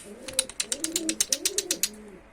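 Pigeons coo in soft, rolling phrases close by, with a quick series of wing claps fluttering over the top.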